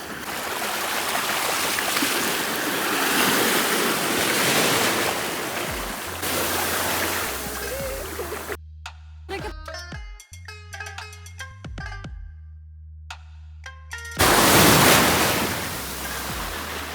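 Sea waves break on Gokarna beach in broad, loud washes of surf, with a gap in the middle where steady music plays instead before the surf surges back loud and close near the end.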